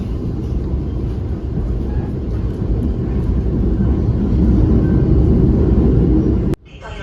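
Argo Cheribon express train running on the tracks between Jakarta and Tegal, heard from inside the carriage as a steady, loud low rumble throughout that cuts off abruptly near the end.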